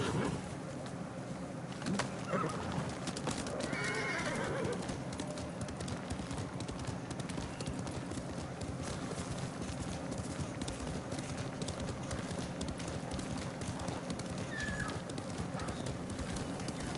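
Horse hooves galloping in the video game Ghost of Tsushima, a steady, fairly faint clip-clop that runs throughout over an outdoor bed with occasional bird calls.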